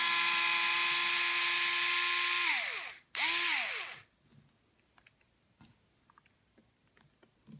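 A Hitachi electric screwdriver backs screws out of a TLR 22-4 2.0 RC car, whining loudly for a few seconds, pausing briefly, giving a short final burst and winding down, then small clicks of handling parts.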